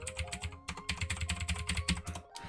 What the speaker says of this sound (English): ignore my really fucking loud keyboard